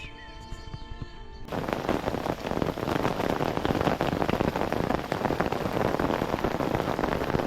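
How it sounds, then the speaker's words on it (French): Heavy rain pours down beside a small river in a dense, steady roar, loud and close, after a brief moment of other quieter sounds at the start. "il pleut à torrent"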